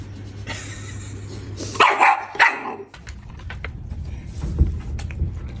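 A pet dog that has just tasted sparkling water gives a couple of short, sharp barks close by over a steady background hum, then quieter shuffling.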